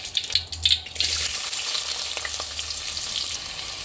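Chopped onion drops into hot oil in a pan for cabbage bhaji, bursting into a loud, bright sizzle after a second of lighter crackle, then holding a steady close hiss.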